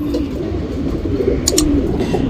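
A male Guldar pigeon coos low and soft in a steady, continuous murmur, close by, with a brief higher chirp from another bird partway through and no talking.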